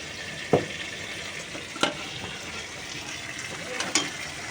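Potatoes sizzling and frying in a pan for kasha aloor dom, a steady soft hiss throughout with a few sharp clinks of a spatula stirring, fairly quiet and close.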